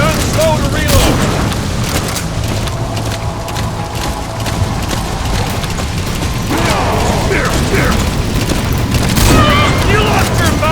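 Metal Gear Solid 5 combat plays continuously, with gunfire booms and mechanical clatter packed into a loud, dense mix, and voices shouting over the action throughout.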